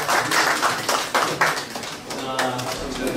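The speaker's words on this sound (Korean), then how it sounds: "박수!" Applause from a crowd at a book launch ceremony for an amateur radio league's 65-year history, a dense run of clapping that stays loud and steady throughout, with voices mixed in.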